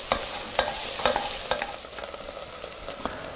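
Croutons for French onion soup toasting in a pan, a soft steady sizzle broken by a series of sharp clinks and scrapes as they are stirred and turned, close and fairly quiet.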